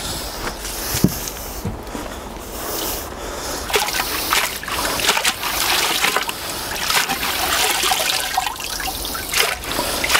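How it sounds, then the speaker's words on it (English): Hose pipe water sprays and trickles steadily over freshly lifted dahlia tubers, washing soil off them on an allotment, with splashing and dribbling throughout and occasional knocks. "and then we'll get the hose pipe on it."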